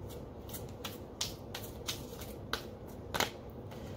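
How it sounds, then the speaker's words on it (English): Tarot cards are shuffled up close in a run of soft riffles and crisp flicks, several sharper snaps standing out along the way. "It's hard to shuffle when your hands are asleep."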